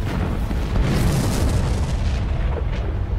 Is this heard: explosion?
yes